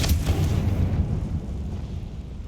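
A Confringo fire spell detonates in Hogwarts Legacy, a deep booming explosion right at the start that rumbles and slowly fades over a couple of seconds.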